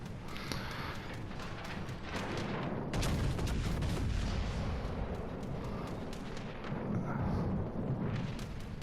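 Battleship guns of the USS Wisconsin firing in a naval combat video game: heavy booming artillery blasts over continuous rumbling battle noise, with repeated loud volleys throughout and no talking.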